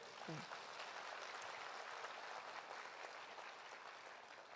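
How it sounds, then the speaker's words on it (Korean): An audience applauds at a speaking event, a faint, steady wash of clapping that holds evenly for several seconds with no voice over it. "여러분들 박수 부탁드립니다."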